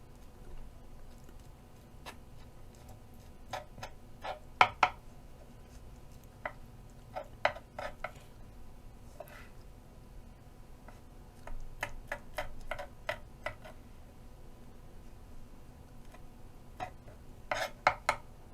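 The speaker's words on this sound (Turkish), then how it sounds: "Şimdi bütün malzememizi doğramaya devam edelim." Knife chopping chicken liver and other ingredients on a board, faint sparse taps arriving in small irregular clusters against a quiet kitchen background, with no talk.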